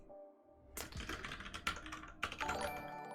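Someone types steadily on a mechanical keyboard fitted with Cherry MX Clear switches, producing close, crisp key clacks in uneven bursts with a few louder strikes, with no voices.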